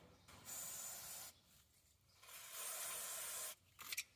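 Brake cleaner sprayed onto bolts during preseason maintenance on a Case DX45 and New Holland TC45DA tractors, heard as two long, close aerosol hisses with a short break between them, then a few quick sputtering spurts at the end.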